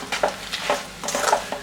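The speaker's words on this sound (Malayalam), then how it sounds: "അതുവരെ നമുക്ക് മിക്സ് ചെയ്ത് കൊടുക്കാം." Spice powders being stirred in a pan, a run of soft scraping strokes in an uneven rhythm, close and moderately loud with no talking.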